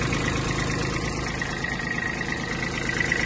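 A small engine of a Japanese Hinomoto CX-19 mini tractor idles steadily nearby, a continuous rumbling chug with a faint whine, no talking.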